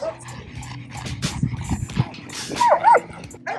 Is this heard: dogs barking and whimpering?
yes